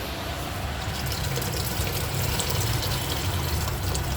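Water pours steadily into a pot of cooked rice as rice porridge (lugaw) is started, a continuous close gushing fill with no talk over it.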